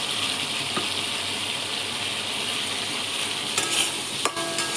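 Fried potatoes and spices sizzle steadily in hot oil for a Bengali fish curry, with a constant loud frying hiss and a few sharp scrapes and clinks of a spatula stirring near the end.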